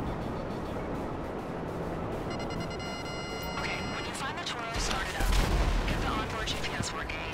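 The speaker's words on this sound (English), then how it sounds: "eat a missile, would you?" A missile explosion in Grand Theft Auto erupts as a deep, rumbling boom about two-thirds of the way through, amid ongoing game noise and someone talking over the action.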